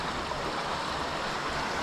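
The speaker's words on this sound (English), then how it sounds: "Then you also have water coming down the hill right here." Rainwater after a short downpour runs down a hill and over a creek bank at a homestead, a steady, close rushing wash of flowing water with no voices.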